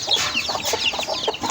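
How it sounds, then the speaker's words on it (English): Hens cluck in a busy, overlapping chorus at evening feeding time on a chicken farm, with short, close calls repeating rapidly and no talking. "Today I want to feed my hens it's in the evening."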